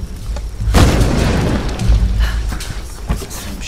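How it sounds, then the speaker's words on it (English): A charged bow shot in the video game Tomb Raider (2013) lands as one loud, close boom with a sharp attack, followed by a rumbling, crackling tail that slowly fades. "charge shot with the bow"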